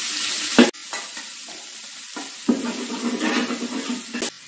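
Beef stew pieces frying and being stirred in coconut oil in a pan, a steady close sizzle with scraping stir strokes and a few sharp knocks against the pot.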